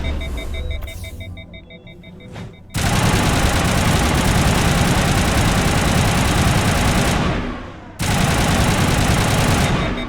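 Sustained rapid gunfire from the Mass Effect Legendary Edition game, loud and close, rattling continuously with a brief pause before resuming.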